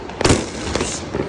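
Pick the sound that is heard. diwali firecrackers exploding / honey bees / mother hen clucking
diwali firecrackers exploding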